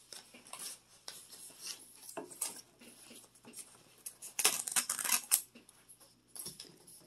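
Scissors snipping the tags off a pillow cushion: a few sharp, close metallic snips and clicks, separated by quiet pauses.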